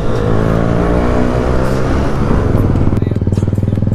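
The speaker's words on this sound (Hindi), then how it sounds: "स्पीड रेस हो रही है GT650 की। ओ भाई तो एक थ्रोटल में बहुत आगे चली जाती है" Royal Enfield GT650 motorcycle twin engine revving hard on the throttle, a loud close sustained roar that settles into a rapid pulsing idle toward the end.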